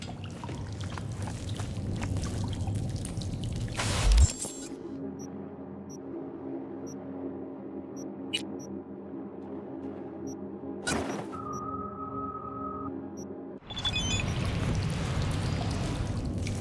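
Water pours and churns in the Cyberpunk 2077 Phantom Liberty video game, a dense splashing wash that cuts off abruptly, returns briefly in the middle, then resumes loudly at the end.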